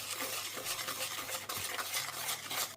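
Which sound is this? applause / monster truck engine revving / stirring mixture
stirring mixture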